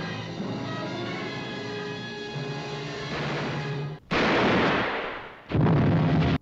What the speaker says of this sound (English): She's gonna shoot him.